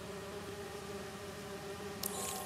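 Bees buzzing in the video game Marvel's Spider-Man 2, a steady, droning hum that holds evenly throughout with no speech.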